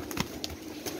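Flying pigeons coo in short, soft bursts, a few brief calls spaced across a second against a quiet background.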